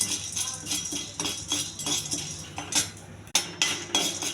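A spatula scrapes and clinks against a pan as dry gram dal (split chickpeas) rattles and shifts while dry-roasting, in steady rhythmic strokes with a few sharper knocks.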